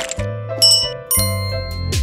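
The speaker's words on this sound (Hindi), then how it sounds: "मैं बस घंटी बजाऊंगी" Small hand bell rung a few times indoors in a Hindi drama scene, bright ringing dings with sustained tones over a low hum, fairly loud with no speech.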